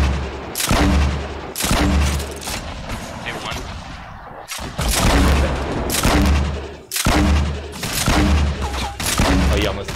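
In Fortnite, RPG grenade blasts and gunfire go off in a string of loud, booming bursts, about five or six spaced impacts with rattling shots between them.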